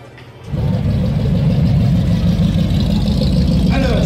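A Pontiac Firebird with a 467ci V8 under a shaker hood fires into a loud, steady, rumbling idle after a brief quiet moment, heard close and alone.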